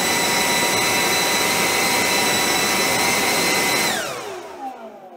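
A DeWalt cordless brushless leaf blower runs in eco mode, a loud, close, steady jet-like roar with a high whine that holds for about four seconds, then winds down as the pitch falls away.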